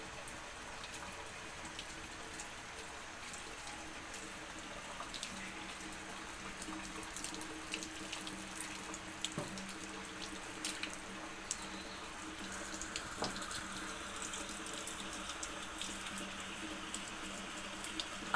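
Water trickles and pours steadily over a snake injured by kerosene, a soft continuous running-water sound at close range with a few small splashes and no talking.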